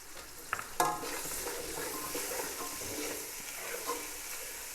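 Chopped tomatoes sizzle and fry in a pan for chicken pulao, a steady close crackle with a few sharp stirring clatters near the start, no one speaking.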